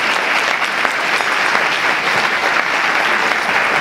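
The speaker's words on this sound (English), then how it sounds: "maybe you can just join me with a little applause for Michelle" A dinner audience claps steadily for a volunteer at a marathon event, a short, even burst of dense applause with no voices on top.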